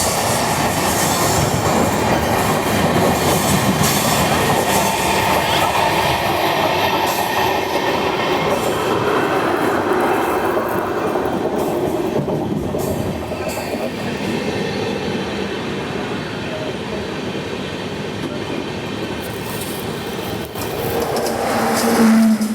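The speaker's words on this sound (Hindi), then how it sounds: "डेक्कन एक्सप्रेस डिपार्ट कर रही है।" The Deccan Express passenger train pulls out of a station on the Pune–Mumbai line, a loud, sustained rumble of coaches with rhythmic wheel clatter and occasional squeals, growing heavier again toward the end.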